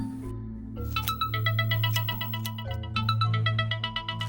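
A phone rings as a call is placed, a repeating electronic ringtone pulsing in short bright bursts over a low steady hum, fairly faint and with no one speaking.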